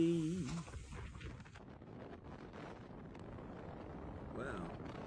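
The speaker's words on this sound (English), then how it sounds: "Some significant wind there." Strong wind buffets the microphone outdoors with continuous low rumbling and roaring gusts, loud throughout, while a voice exclaims briefly near the start.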